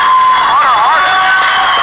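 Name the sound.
crowd applauding and cheering for wrestler Jeannine the Machine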